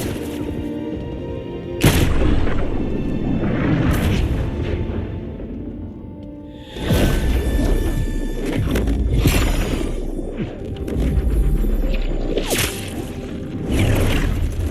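Booming explosions and whooshing gunfire from an army assault in the video game Final Fantasy Rebirth, arriving in loud, heavy bursts separated by brief lulls, with rumbling impacts and swishing debris throughout.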